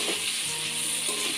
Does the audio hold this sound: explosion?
no